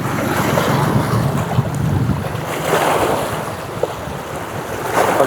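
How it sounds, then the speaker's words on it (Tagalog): Strong waves churn against the rocks at Bañadero Baywalk in Tanauan, Batangas, after habagat monsoon storm weather, a continuous loud roar of surf swelling in rolling surges, with heavy wind buffeting the microphone. "tingnan natin kung gaano kalakas yung alon dito sa may Bañadero Baywalk."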